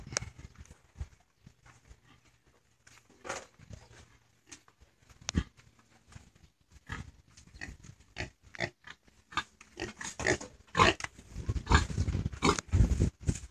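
Pigs, a boar brought to a sow for breeding, with irregular grunts, snorts and squeals alongside hoof scuffling and thumps, growing louder and busier toward the end.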